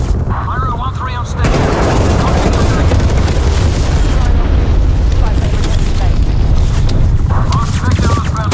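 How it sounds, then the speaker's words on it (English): Napalm strike explosions in Call of Duty Cold War on the Nuketown Domination map: loud, dense booming blasts and rumbling fire, with gunfire rattling throughout and voices talking over the din. "authorizing napalm strike"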